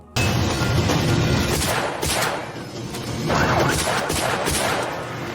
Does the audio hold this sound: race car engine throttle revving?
no